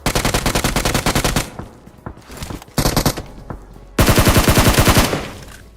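Rapid automatic gunfire in a battle royale video game, loud and close, coming in several bursts of evenly spaced shots with short gaps between them and a final long burst that fades out.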